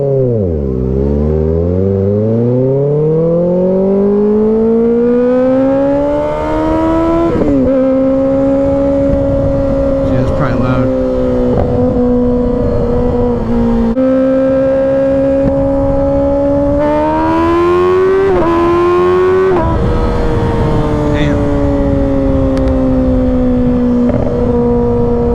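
A 2024 Kawasaki Ninja ZX-6R ridden at night on the freeway, its engine rising through the revs and shifting gears repeatedly, loud and close over steady wind rush.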